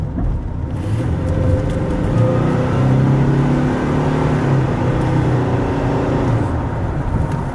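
A stock 2002 Ford Ranger XLT SuperCab accelerates on the road, with a loud, steady engine drone and rising rumble heard from inside the cab for the full stretch, with no talking.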